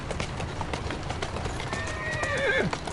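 Steady clip-clop of horse hooves trots along in Assassin's Creed Syndicate, then a horse gives a loud whinny near the end, with faint background voices and game sounds.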